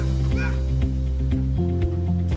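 A voice imitates a dog barking, giving a quick run of loud, close woofs over a couple of seconds.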